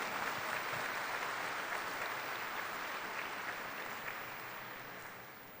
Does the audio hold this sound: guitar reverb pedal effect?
no